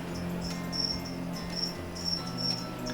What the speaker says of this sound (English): Those fucking crickets are doing my fucking head in.